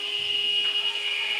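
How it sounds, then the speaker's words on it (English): A buzzer sounds at a netball match in an independent schools league game at an indoor arena, ending the quarter with a single steady electronic tone sustained for over a second. "there goes the buzzer"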